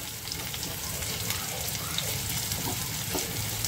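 Onions frying in a pan for a potato fry give a steady, soft, continuous sizzle at close range.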